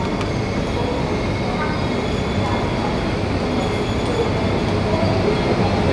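Ajmer–Bandra express overtaking the halted Ahmedabad–Borivali train at Palghar: a steady, continuous rumble of rolling stock and wheel noise, close and loud throughout, with faint voices mixed in.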